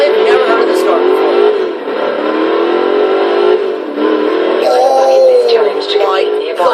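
Racing engine of a 1985 HDT VK Commodore Group A in Forza Horizon 3, a loud sustained drone with shifting pitch through the whole stretch, with game sounds and possible talk mixed over it.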